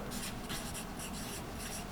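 A pencil or pen rubs a line across paper during a drawing demonstration, a close, steady scratchy stroke lasting a couple of seconds.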